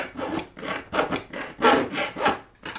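A hand file scrapes burrs from a drilled hole in a Keritech DD-12 amp chassis, with about six rhythmic rasping strokes in quick back-and-forth succession, close and clear with no talking.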